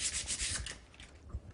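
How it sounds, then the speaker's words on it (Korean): Sandpaper, coarse 220 grit, rubbed over the outer surfaces of a hand-carved wooden piece, a close, steady rasping in quick repeated strokes with no talk. "저희들도 이 안에는 사포질을 안 하고 겉과 바깥에만 할 거예요"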